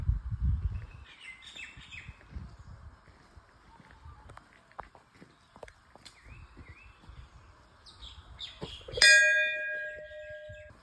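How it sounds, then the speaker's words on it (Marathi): Faint birds chirp and twitter intermittently around a misty hillside temple entrance near Pune, with light footsteps and a bright ringing tone near the end, under quiet, sparse ambience. "पक्ष्यांचा किलबिलाट ऐकायला येतोय"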